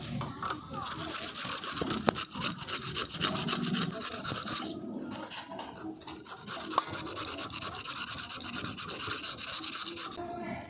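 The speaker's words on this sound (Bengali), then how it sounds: "এই আলুটাকে আমি এরকম একটা গ্রেটারের সাহায্যে গ্রেট করে নিচ্ছি।" A raw potato rubbed against a kitchen grater, a close, continuous rasping scrape in steady repeated strokes with one brief pause partway through.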